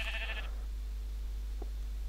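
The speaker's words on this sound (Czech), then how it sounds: "Ovce!" A Minecraft sheep bleats in a short wavering burst at the start, followed by a faint click, over a steady low hum with no speech.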